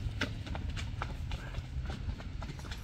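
A pacing horse's hooves clip-clop in a quick, even rhythm of sharp knocks, fairly close over a constant low background hum.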